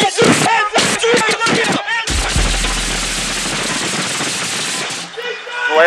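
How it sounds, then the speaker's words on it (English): A burst of police gunfire on a Vallejo street, several loud, sharp shots fired close together, after people speaking and before a long, noisy decaying rumble. "Vallejo, David, 3 shots fired"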